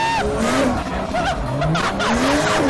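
Tires squeal in long, wavering screeches over a steady engine roar, the pitch sliding up and down as a car spins in circles.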